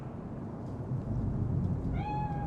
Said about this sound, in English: Chill. It's just a cat.